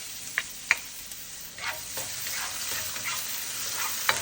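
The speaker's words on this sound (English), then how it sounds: "Let's saute garlic." Garlic sautéing in a pan for a Filipino bitter melon and shrimp dish, a soft continuous sizzle broken by a few sharp spatula clicks against the pan.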